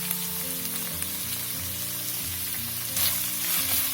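Vegetables stir-fry in a pan with chilli sauce and soy sauce, giving a steady, close sizzle that grows louder near the end, with a low tonal hum underneath.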